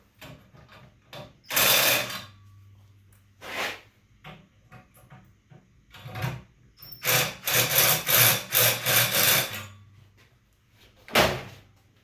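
A tool deburrs the inside edge of metal on a welding cart, making repeated bursts of harsh, close scraping and grinding with short quiet gaps between strokes.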